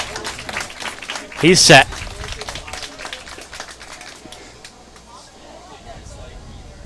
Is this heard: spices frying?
no